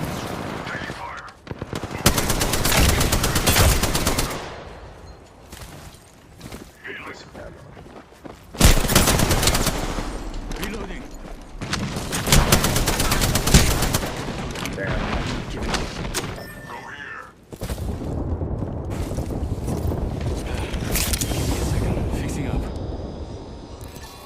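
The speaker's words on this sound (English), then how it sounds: "Taking fire." Gunfire in Apex Legends: bursts of automatic weapon fire come in several loud volleys separated by quieter gaps, with a lighter sustained stretch toward the end.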